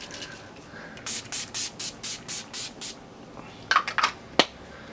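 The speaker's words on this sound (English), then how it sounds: "I'm just going to go in with the Urban Decay De-Slick Makeup Setting Spray" A series of about eight quick, even spray bursts from a pump bottle of Urban Decay De-Slick makeup setting spray, followed by a few sharper hisses after a short pause.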